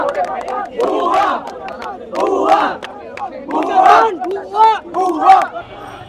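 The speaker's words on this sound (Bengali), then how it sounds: "তারা পুলিশকে লক্ষ্য করে এই মুহূর্তে ভুয়া ভুয়া স্লোগান দিচ্ছেন" HSC exam protesters near the education ministry building chanting a rhythmic two-beat slogan at police in repeated loud bursts, a large crowd shouting in unison with brief pauses between phrases.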